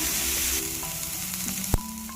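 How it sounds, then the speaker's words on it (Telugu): Onions sizzle steadily in a pan after salt is added, a soft, even frying hiss close by, with a small clink near the end. "ఉప్పు వేసుకుంటే మనకు ఉల్లిగడ్డ గిట్లా తొందరగా ఫ్రై అవుతుంది."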